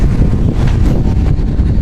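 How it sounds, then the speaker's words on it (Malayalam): Strong wind gusts across a seaside viewpoint at Hulhumale in the Maldives, a steady close roar buffeting the microphone with no break for about two seconds. "നല്ല കാറ്റുമുണ്ട്."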